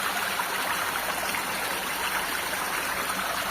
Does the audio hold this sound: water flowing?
yes